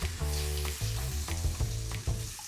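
Peppers, onions and mushrooms frying on a griddle with beef ribeye nearby, a steady close sizzle with scraping as pieces are flipped, loud and continuous with music underneath.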